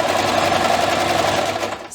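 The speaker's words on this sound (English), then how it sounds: "Stitching all the way to the end of that piece." Sewing machine running continuously while stitching fabric for a quilted hot pad, a fast steady mechanical whir and rattle close by, slowing at the very end.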